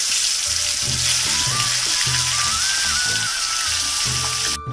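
Oil sizzles in a kadai (wok) while dried fish is cooked with potatoes, a steady, close, continuous frying hiss that runs through the whole stretch with no talking.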